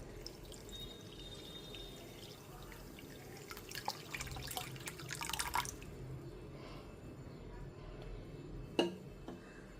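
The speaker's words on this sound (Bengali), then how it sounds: "তারপর দিয়ে দিচ্ছি পরিমাণ মতো জল" Water is poured into a pot over pieces of raw green mango for jelly, a soft trickling splash that swells briefly midway, followed by a few faint drips in a quiet kitchen.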